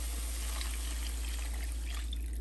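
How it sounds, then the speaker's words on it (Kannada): Water poured steadily into a pan while making quinoa and semolina upma, a continuous close splashing pour with no speech. "ನೀರು ಹಾಕ್ತಾ ಇದ್ದೀನಿ"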